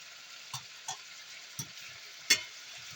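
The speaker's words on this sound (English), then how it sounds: "It's called searing, sealing in the flavor and the juice and all the things." Oxtail searing and browning in a pot for a Jamaican dish, a faint low sizzle broken by a few separate knocks and scrapes of a utensil, quiet and up close with no talking.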